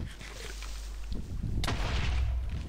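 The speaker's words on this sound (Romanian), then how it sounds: "Creeperul ăsta se bubuie." Minecraft creeper exploding in gameplay: a sudden boom with a sharp crack, then a lingering low rumble over a steady background bed, moderately loud.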